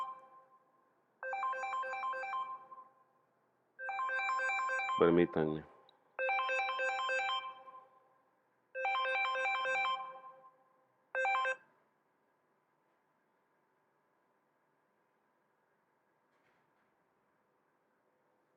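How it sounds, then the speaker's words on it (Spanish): Mobile phone ringtone during a class, a bright electronic melody repeating in about five bursts and then stopping, with a brief spoken word in between. "voy a apagar el teléfono"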